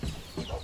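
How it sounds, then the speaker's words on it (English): Backyard coop chickens clucking in short, low bursts, close by and moderately loud, with a couple of separate clucks over a soft yard background and no talking. "These are the chickens we have."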